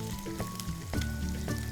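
Ginger and green chilies sizzle in a few teaspoons of hot oil in a kadhai, a steady close frying hiss with occasional crackles and soft clinks, heard alone.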